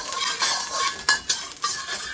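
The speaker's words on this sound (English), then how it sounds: "So give these aromatics a quick stir fry." Chopped ginger and garlic stir-fry in a hot wok, a bright close sizzle punctuated by several quick metal scrapes and clanks as the aromatics are tossed.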